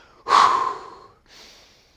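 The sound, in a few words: breathing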